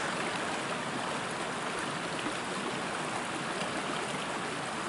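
River water flows along a mountain trail near the Henry's Fork trailhead, a steady, even rushing hiss that fills the whole stretch at low level, with no voices.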